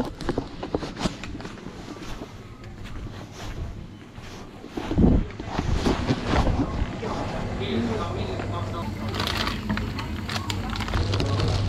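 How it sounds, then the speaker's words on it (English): Wind gusting on Anafi island in Greece at sunset, a steady broadband rush with buffeting bursts against the microphone, plus some faint movement and handling noises. "the temperature's dropping rapidly with the wind picking up"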